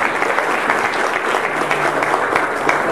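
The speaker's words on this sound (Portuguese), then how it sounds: "A salva de palmas, Matheus" A crowd at a building-supply store's opening claps for a young boy, with dense, continuous applause at a steady, fairly loud level and no voices rising above it.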